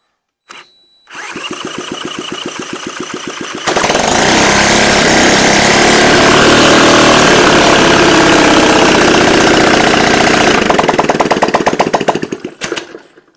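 A Honda 12V clone small engine is spun by a drill, with the rapid whir of cranking before it fires and runs loud and steady without an exhaust, then tapers back toward cranking near the end.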